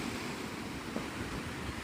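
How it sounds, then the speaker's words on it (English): Wind blows steadily on Navarre Beach in Florida at sunrise, a loud continuous roar of wind noise mixed with breaking surf, with no pause. "Well, it's windy."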